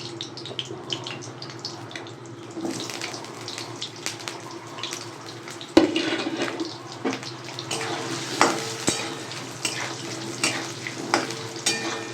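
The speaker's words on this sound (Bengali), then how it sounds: "এটা সর্ষের তেলে করব। তেলটা দিচ্ছি, আলুটা ভেজে নেব।" Potatoes frying in mustard oil in a hot kadai for a Bengali fish-head muri ghonto, a continuous near sizzle with a sharp crackle burst partway through and intermittent stirring clatter, with no voices.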